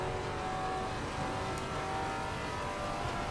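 GT3 race cars close in during a multiclass race at Zandvoort in the racing game Assetto Corsa Competizione, heard as a continuous loud engine drone that holds steady throughout.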